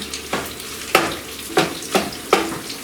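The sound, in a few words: sausage browning and sizzling in pan, stirred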